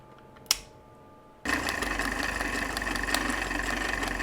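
A vintage Elna sewing machine stitches a zigzag pattern using a stitch disc. After a short click and a quiet pause, the motor starts and runs in a steady, close mechanical hum.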